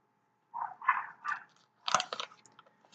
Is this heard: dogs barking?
yes